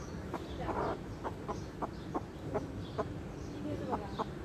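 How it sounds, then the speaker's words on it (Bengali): Chickens cluck in short, repeated bursts at a market stall for deshi or sonali chickens, fairly faint and moderately near over low background murmur, with occasional voices. "ওই যে মুরগি"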